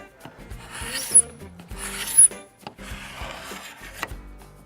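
A Norton hand scraper rasps across a wood floor in three or four rhythmic close-up strokes, each a dry scratchy rub followed by a short pause.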